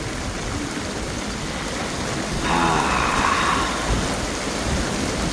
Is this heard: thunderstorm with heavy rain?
yes